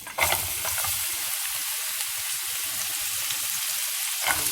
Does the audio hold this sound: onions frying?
yes